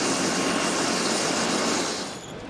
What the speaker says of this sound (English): a North Air Care medical helicopter touches down 100 feet away